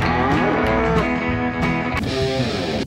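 A cow moos in a long, loud, continuous low, spanning nearly three seconds with a slight swell near the end and no talking.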